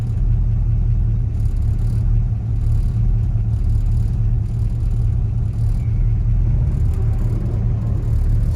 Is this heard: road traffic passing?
yes